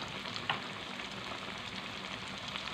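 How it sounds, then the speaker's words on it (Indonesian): Catfish coated in wheat flour sizzles in hot oil over medium-low heat, a constant close crackling hiss with small pops and a faint stirring clatter, no speech. "Kita goreng sebagian dulu."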